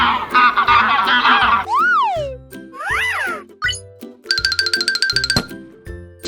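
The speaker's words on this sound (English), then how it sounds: "Goose." A goose honks in a harsh, raspy burst lasting over a second, followed by bright cartoonish chimes, swooping boings and a tinkling jingle, with no talking.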